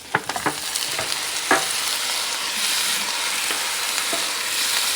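Pieces of lamb neck sizzle and hiss steadily as they fry in a hot pan for a French lamb stew, with a few sharp clinks and stirring scrapes near the start.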